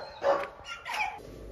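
Dogs let out two or three short, sharp barks at moderate distance, with a quiet gap between them and little else around.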